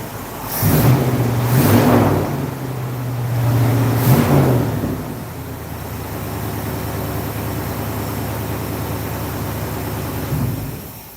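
Old convertible car with a 600 Holley carburetor, engine running and revving in a few loud surges before settling into a steady, rough idle nearby.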